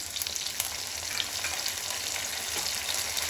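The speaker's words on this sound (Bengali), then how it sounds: "টমেটোটা আমার একটু ভাজা ভাজা হয়ে গেছে, এখন আমি মশলাগুলো দেবো।" Tomato fries with ginger, garlic and green chilli pastes for a dried-pea ghugni, a dense, continuous close-up sizzle with occasional stirring clicks.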